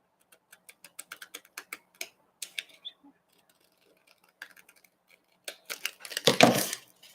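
Scissors snip a little off the bottom of a small craft cutout for a Cricut Mug Press project, a run of sharp quiet clicks and snips in rhythm, followed by a louder rustling burst near the end.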